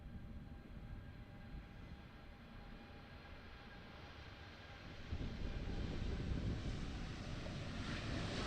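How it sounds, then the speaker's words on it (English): Steady broadband roar of an airliner taking off at Amsterdam Airport, heard from a distance with wind noise over the microphone, swelling noticeably louder partway through and holding there. "Late takeoff."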